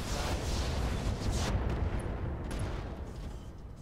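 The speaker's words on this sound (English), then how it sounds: "Gonna use the deadfire ammo and blow this guy up." Deadfire ammo explosion in the Roguetech video game, a dense booming blast with crackling debris that rolls on and slowly fades over a few seconds.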